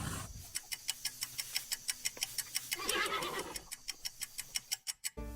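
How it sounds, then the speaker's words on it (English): A horse whinnies and neighs through a steady series of sharp rhythmic clicking ticks, the call rising and fading near the middle before ending abruptly. "It's a horse."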